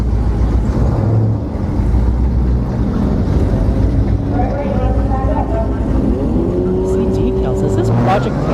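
An S550 Mustang at a drag strip, its engine roaring loudly and continuously, with rising revs and a whine toward the end, amid crowd and track noise.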